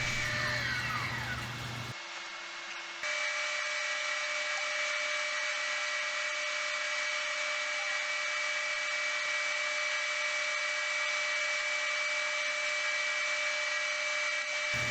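A wood lathe spins a walnut and maple brick-pattern vase while it is sanded up to 320 grit. A steady motor hum with a whining tone drones on throughout, and a rougher, louder stretch comes at the very start.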